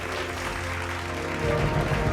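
An awards-ceremony crowd claps steadily in dense applause over sustained musical tones, swelling a little louder toward the end.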